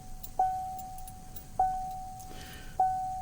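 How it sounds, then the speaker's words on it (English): A car key goes into the ignition of a manual-transmission vehicle and turns to run, with a light metallic jangle of keys, followed by three evenly spaced soft electronic chimes, each with a sharp onset and brief ringing tail, in a quiet cabin. "We're going to place the key back in the ignition, turn the key to the run position."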